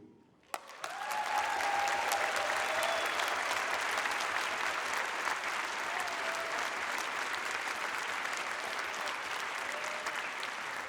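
An audience in the Auditorium Jacques Brel applauds warmly after a children's choir concert. A sudden onset swells into dense, sustained clapping that holds evenly for about ten seconds, slightly distant and filling the hall.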